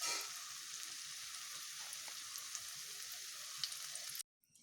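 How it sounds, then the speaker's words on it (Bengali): Pumpkin seeds dropped one by one into hot oil fry with a steady, bright sizzle that holds evenly for about four seconds, then cuts off abruptly. "এবার আমি এই পামকিন সিডগুলোকে তেলের মধ্যে ছাড়ছি।"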